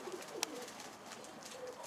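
Pigeon cooing at a rooftop loft, soft low throaty coos with a brief sharp click, faint and near under quiet background noise.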